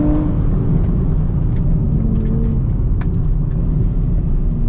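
A 2025 Nissan Z Nismo pulls hard through third gear, its engine a loud, steady drone and whir of rising revs heard from inside the cabin.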